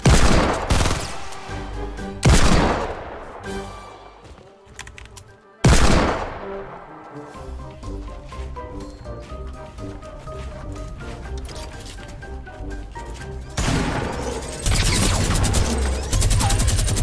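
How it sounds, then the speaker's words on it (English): Shotgun blasts ring out in a Fortnite Battle Royale match, a few sharp loud bursts spaced apart with a steady game soundscape between them, and a final heavy stretch of firing near the end. "They were shotgunning one another."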